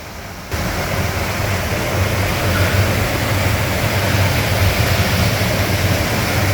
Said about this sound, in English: And the water, it's so noisy, and the noise, it's intense.